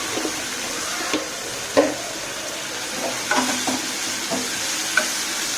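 Spicy prawns for a bhuna stir-fry in a pan with ginger paste, a steady sizzle broken by occasional scrapes and clinks of the spatula against the pan, with no talking.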